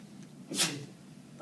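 A single sneeze, brief and fairly faint, heard in a quiet classroom during a math lesson, alone against a soft background hum.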